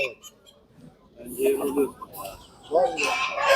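Roman breed chickens cluck and fowl call at a Turkish poultry market in Tuzla, Istanbul, the bird sounds coming in short bursts mixed with nearby voices of people talking.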